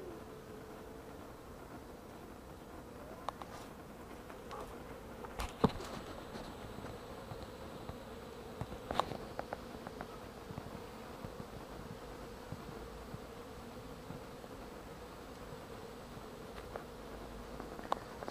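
Honeybees fly around hive boxes in early spring, making a faint, continuous distant buzz with a few brief louder passes as bees come near. No one speaks.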